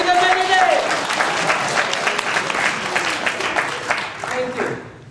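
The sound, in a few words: audience applause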